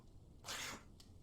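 A character in the video game Alan Wake lets out a single short sneeze, a quick faint burst with no talk around it.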